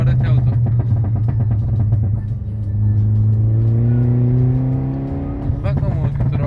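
Exhaust of a Peugeot 208 GT revving hard, engine note rising and falling through gear changes with crackling pops and bangs, close and loud, with people talking over it.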